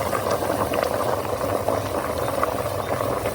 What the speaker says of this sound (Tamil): இங்க பால் வந்து எருமைப்பால் கொதிச்சிட்டு இருக்கு